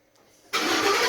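A 2011-2019 Ford F150 with a 5.0L V8 and a dual exhaust with a welded Thrush muffler cranks over and fires, jumping from near silence to a loud, steady, close exhaust rumble that holds to the end.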